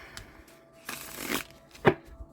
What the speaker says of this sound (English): I'm going to give this one more shuffle